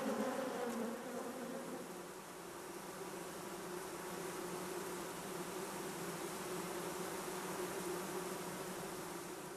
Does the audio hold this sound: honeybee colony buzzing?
yes